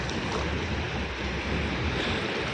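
Rough sea waves at Juhu beach, Mumbai, roll in with a strong current, making a continuous loud surf wash buffeted by wind noise on the microphone.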